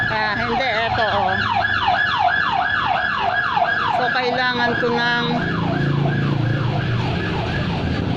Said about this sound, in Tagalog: Ay, ambulansya.